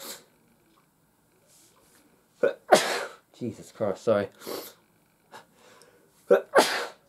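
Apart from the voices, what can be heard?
sneeze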